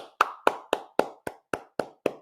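Hands clap eight times in a steady, even rhythm, each sharp smack close and crisp with a short decay, with no voices.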